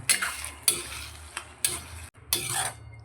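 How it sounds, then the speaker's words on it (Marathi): A spoon scrapes around a pan in several sharp strokes while tamarind water and rice flour fry and sizzle steadily underneath. "ह्याच्यासोबत पण आपण थोडं परतून घेऊया"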